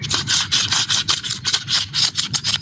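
A gritty, rasping rubbing sound from a worn Ford Ecosport front wheel bearing repeats in quick uneven strokes as it turns by hand, close and fairly loud.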